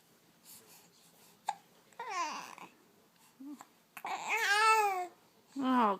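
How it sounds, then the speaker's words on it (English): Infant hiccups and babbling, a sharp short hiccup followed by rising vocal coos and squeals in bursts, close and clear with quiet gaps between. "Oh, goodness. Stupid hiccups."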